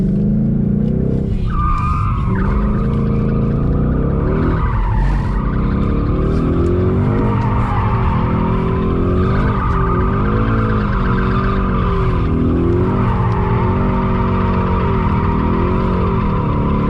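A Ford Mustang drifting, with a loud engine roaring and revving continuously as its tires skid and squeal in long sweeping waves, close and sustained.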